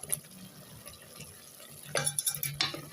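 Mutton pieces and potatoes are stirred together in a pan for a mutton gravy, with a few short scraping, sloshing bursts near the end over a low, steady kitchen background.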